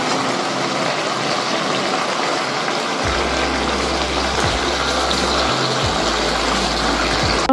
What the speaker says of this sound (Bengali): কষানো হয়ে গেছে, এবার আমি জল দিয়ে দিলাম।